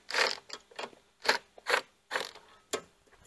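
A socket wrench with an SAE deep-well socket ratchets on a corroded bolt on an E-Z-GO RXV golf cart, giving about seven quick, close bursts of clicking in an uneven rhythm, with no talk.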